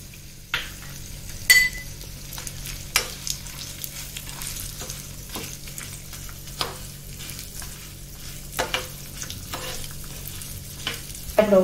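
A tempering of urad dal and cashews frying in oil for rava idli batter sizzles steadily and quietly, punctuated by scattered spoon clicks and stirring scrapes against the pan throughout.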